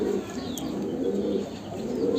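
Pigeons in a coop coo continuously, with overlapping low, throaty calls heard close and steady, and a faint chirp mixed in.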